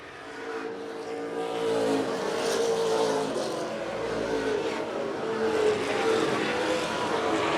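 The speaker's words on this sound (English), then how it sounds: "Now half straightaway to catch the number 77 of Nick Reno." Pro stock race cars roar around an oval track. A steady, loud engine drone swells and shifts as the cars pass, with a faint voice beneath the continuous noise.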